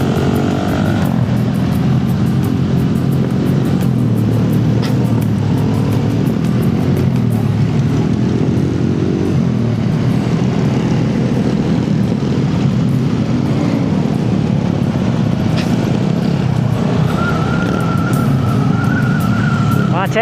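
Jammed traffic of cars and motorcycles at a crowded event, a dense continuous roar of engines and revving close by with a voice calling out over it at moments.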